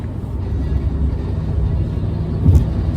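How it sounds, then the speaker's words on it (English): A 2010 Volkswagen Jetta on the road at about 75, downshifting from fifth to fourth gear, heard from inside as a steady low engine and road rumble with a brief rise near the end of the shift. "Let's see if I can pull off a downshift right now."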